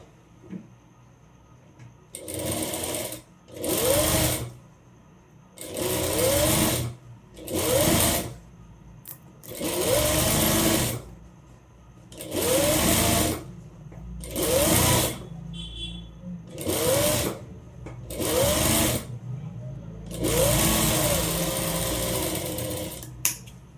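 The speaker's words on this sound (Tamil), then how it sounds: "இதை அப்படியே ஃபோல்டு பண்ணி ஸ்டிச் பண்ணிக்கலாம்" Sewing machine stitching the fold of a one-piece umbrella frock, running in about nine short bursts of steady whirring with brief pauses between, close and clear, no talk.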